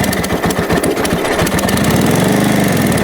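A 1942 Harley-Davidson WLA motorcycle engine runs loud and close with a lumpy, rapid pulsing beat, then settles into a smoother, steady rumble.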